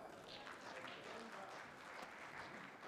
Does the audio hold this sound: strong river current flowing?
no